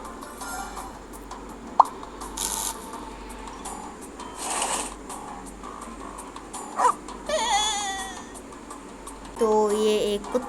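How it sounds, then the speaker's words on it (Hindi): A cartoon dog in the Save the Girl mobile puzzle game gives brief yips and whimpers among game sound effects, plops and ticks, at moderate level with some talking over the game audio. "तो ये एक कुत्ता है और ये कुत्ते से डर रही हैं"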